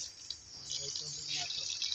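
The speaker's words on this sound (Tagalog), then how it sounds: "Iagas na guys ang tubig." Water runs from a household tap in the Philippines, a steady hissing stream that swells and fades slightly over two seconds, with faint voices in the background.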